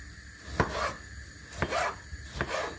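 Onion and tomato roughly chopped on a board: three knife strokes about a second apart, each a short crisp cut with a brief scrape, close and alone.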